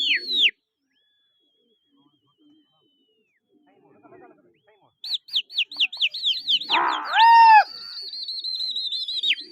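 Pigeons call in a rhythmic run of cooing, whistling notes, with a brief call at the start, a quiet pause, then a steady series that builds near and clear. A voice briefly breaks in midway.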